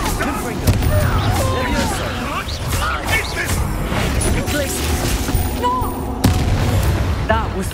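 Confringo fire spell blasts in the Hogwarts Legacy video game, loud bursts and booming impacts repeating through busy combat noise, with a voice talking over the action.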